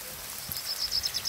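Ground ginger, garlic and onion paste with dried chili and turmeric powders fries in a pan for a village-style mutton curry. It gives a faint, fine crackle of tiny pops like light rain, with no speech.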